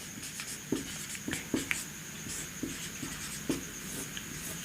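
Chalk or marker writing on a classroom board makes scattered sharp taps and short scratchy strokes, close and distinct against a quiet room hum, without speech.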